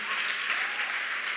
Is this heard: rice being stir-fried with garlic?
no